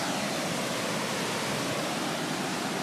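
Floodwater rushes through dam openings from a lake filled to the top after heavy rain, a steady, loud, broadband roar that holds unchanged from start to finish without speech.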